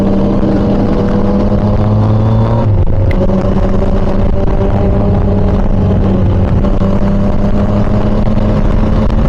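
A Yamaha Tracer 900 sport-touring motorcycle with an inline-three 900cc engine, running loud and close with a steady droning hum and a brief dip in pitch midway before settling back to an even tone.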